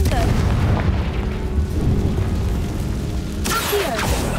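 Hogwarts Legacy's Confringo blasting spell erupts as a loud, sustained boom with dense low rumble and crackling debris, followed by a sharp fresh burst toward the end.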